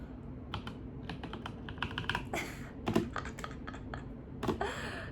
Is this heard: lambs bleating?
no